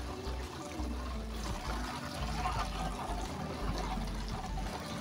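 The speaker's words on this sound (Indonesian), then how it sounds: "Lalu kita siram untuk sedikit menyatukan tanahnya teman-teman ya, supaya panahnya itu merekat." Water is poured onto the soil around a freshly transplanted plant, a soft, close trickle and splash running unevenly for several seconds at low volume, without talk.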